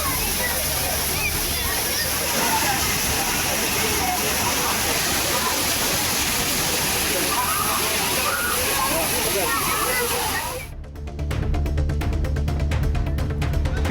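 Agasthiyar waterfall at Papanasam, crowded with weekend tourists bathing, gives a steady, loud rush of falling water with a busy mix of voices, until the sound shifts abruptly near the end.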